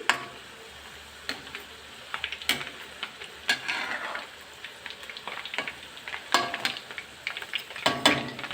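Urad dal murukku fries in hot oil: a steady, soft bubbling sizzle, broken by sharp clicks and taps, likely from a ladle against the pan.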